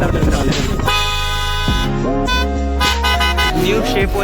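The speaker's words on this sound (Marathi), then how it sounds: "क्रेटाचा हॉर्न एकदा चेक करा" Hyundai Creta car horn tested at a Mumbai used car market, several loud, close toots of varying length in quick succession, with other vehicle noise and voices around.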